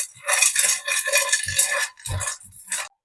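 Cashews roasting in a pan on the stove give off bursts of rattling, clattering scrapes, busy and fairly close, ending abruptly near the close.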